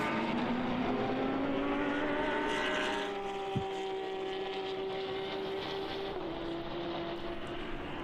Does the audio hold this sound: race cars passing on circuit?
yes